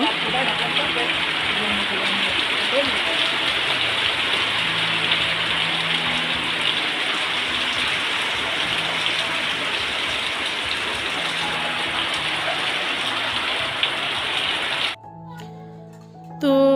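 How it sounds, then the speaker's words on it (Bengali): Heavy rain pours down in a steady, dense roar that stays loud and unbroken for most of the stretch. Near the end it cuts off abruptly and a few faint tonal sounds follow. "আবার বৃষ্টির শব্দটা একটু শুনিয়ে দিলাম"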